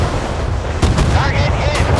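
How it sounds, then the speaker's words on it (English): Loud blast-like launch of a missile from a warship in the naval combat game Force of Warships, a brief burst rising over a dense continuous rumble of battle noise. "Missile launched."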